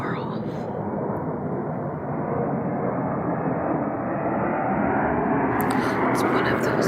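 An airplane passes overhead in rural New Jersey during a hunt, a loud, steady broadband roar that holds and slowly swells over several seconds outdoors.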